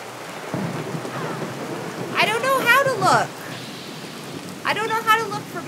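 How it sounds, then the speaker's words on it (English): Steady heavy rain from a video game hissing throughout, with two stretches of excited voices talking over it. "The rain is so loud!"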